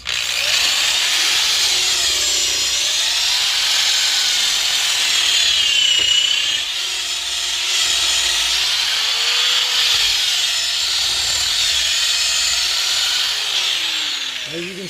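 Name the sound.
drilling out old car control arm bushings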